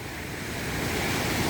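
Ocean waves wash onto a beach at sunset in a brief, steady surf roar, fairly close and building slightly, with some wind.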